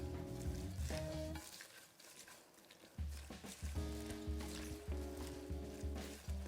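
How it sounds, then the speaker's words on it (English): Tomatoes are stirred into a hot pot of smoky vegan mac filling, off the stove. Soft sizzling and scraping stir strokes come in uneven bursts with a brief lull, over quiet background music. "We can stir these in there together"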